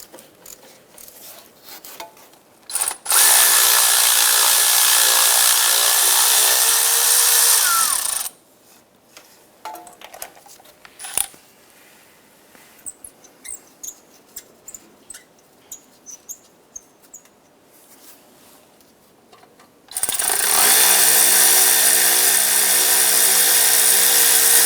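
A power tool spins off exhaust manifold nuts on a 2007-2012 Nissan Versa. Two sustained, loud, close whirring bursts of several seconds each are separated by a stretch of scattered metallic clicks and handling noise.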